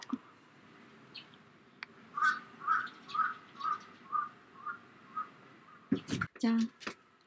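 A crow caws eight or nine times in a steady rhythm, moderately distant, followed by a few brief sounds at the end.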